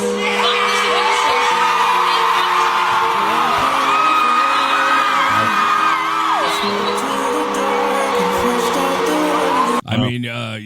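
At a No Kings protest against ICE, a big crowd roars continuously with whoops, yells and high cheering voices layered over each other, loud and close, before cutting off abruptly near the end.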